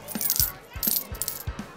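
Coins clink as they drop into a toy candy machine, with three or four bright metallic clicks and rattles spaced about half a second apart, close and fairly quiet, with no talking.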